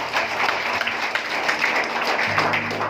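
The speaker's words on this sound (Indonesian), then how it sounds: "tepuk tangan buat Bapak Ibu" Applause from an indoor audience at a product education session for a Nano Water Can, steady broadband clapping filling the whole stretch with faint murmur underneath.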